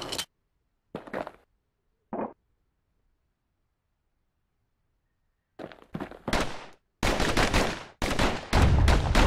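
Slinger pistols firing in the action game Bastion: a few isolated sharp cracks separated by silence, then a fast cluster of loud, dense shots toward the end.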